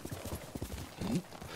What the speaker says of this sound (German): Das ist ein braves Pferd